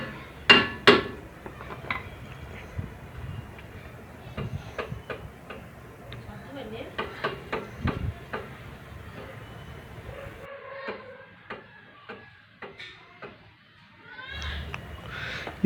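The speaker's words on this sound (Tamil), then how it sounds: "மேலே சுற்றி, அதான் வீல் ரொட்டேஷன் சுற்றி நம்ம அடித்து வரணும். லேசாக தான் தட்டணும்." A hammer taps lightly around a vehicle wheel drum, giving sharp metallic knocks in irregular clusters with pauses between, while someone talks throughout.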